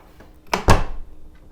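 A door with freshly tightened loose hinges is swung open and shut, giving two quick solid thumps about a beat apart, close by and fairly loud, with no talking.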